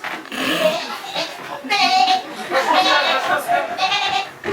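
Performers imitate goats with their voices, bleating in wavering, nasal cries that overlap and repeat in quick bursts, close and loud, with some childlike vocal tones mixed in.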